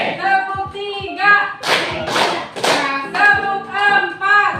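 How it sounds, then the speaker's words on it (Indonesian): Group hand clapping in a clap game, sharp percussive claps in short bursts with a loud clustered flurry in the middle, over a background of children's voices. "kita tepuk konsentrasi dulu ya"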